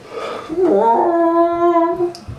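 A person imitates an elk call with a single drawn-out, wavering vocal bugle that rises and then holds a high tone for about a second and a half. It is loud, close and heard alone.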